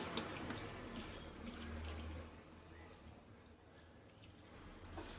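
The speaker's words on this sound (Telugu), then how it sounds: "మునిగేదాకా నీళ్ళు పోసుకుందామండి" Water pours steadily into a pressure cooker holding chicken for curry, flowing continuously and clearly at first, then growing a little softer toward the end.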